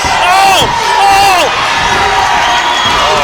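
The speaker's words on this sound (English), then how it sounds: "The crowd is very upset." An angry wrestling crowd roars and jeers after a disqualification, loud continuous shouting with whistles and sliding yells rising and falling across the arena.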